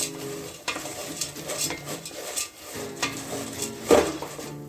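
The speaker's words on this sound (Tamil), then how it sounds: "நல்லா வறுத்து எடுத்துக்கலாம்." Dal and flattened rice roast in ghee for a payasam, stirred with a spoon scraping a metal pan; a gentle sizzle sits under repeated close scrapes and clinks, with one louder knock near the end.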